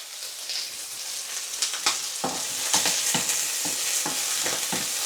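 Peppers and fresh tomatoes sizzle in oil for chili con carne, with a steady frying hiss and repeated scraping stirs of a utensil across the pan, close and continuous.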